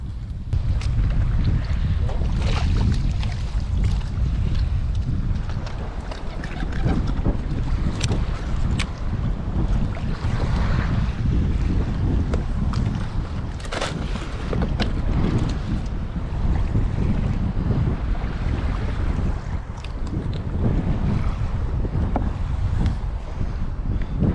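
Strong wind buffets the microphone during sea kayak fishing, a constant loud roar with water washing against the hull underneath and no voices.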